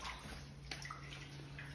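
Faint shallow floodwater about half an inch deep sloshing and splashing underfoot on a floor after Hurricane Ida, a quiet wet swishing over a low steady background hum.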